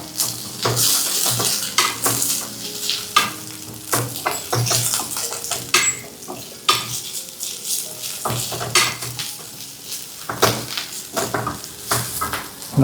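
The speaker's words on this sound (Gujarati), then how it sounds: "કોથમીરનું છીણ છે, પાછળનો દાંડલાનો ભાગ, અને આદુ. સારી રીતે સ્ટર કરી લો." Coriander stems and ginger are stirred in a pan for pineapple curry, with a spoon scraping and clinking against the metal in repeated strokes over a steady sizzle. No one speaks.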